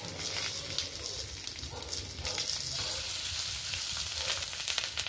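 Bhetki fish paturi, parcels of fish wrapped in leaves, sizzles steadily in a pan over low heat, a soft continuous frying hiss with faint crackles and no talking.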